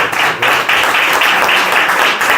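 An audience at a talent and hypnosis show bursts into loud, close applause, a thick sustained roll of many hands clapping with slight surges in intensity.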